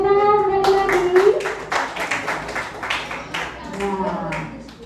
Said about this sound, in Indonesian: Terima kasih tepuk tangan sekali lagi.